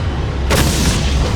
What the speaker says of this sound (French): Et je vais lui lancer mes grenades aveuglantes